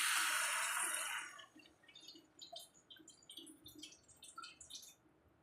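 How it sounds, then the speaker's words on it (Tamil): Water is poured into a cooking pan of sautéed spices for a fenugreek curry, a brief rushing pour at the start, then it settles into faint bubbling and light dripping sounds, close and quiet. "ஒரு 3/4 கிளாஸ் தண்ணி விட்டுருங்க."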